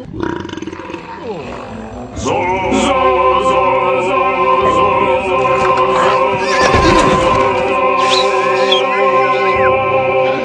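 A loud, drawn-out horse whinny with shrill harmonic cries, preceded by a short rough vocal burst, continuing strongly for several seconds.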